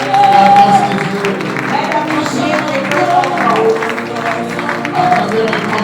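A church congregation at a Sunday service applauds and cheers together, a steady loud crowd clapping that runs throughout, with voices mixed into the noise.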